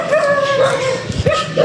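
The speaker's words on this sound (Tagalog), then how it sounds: "May sinasalubong kami ng mga aso." Dogs on a forest hiking trail on Mt. Sembrano give high, yipping barks and whiny howls, close and loud over a busy outdoor background, with brief rustling between calls.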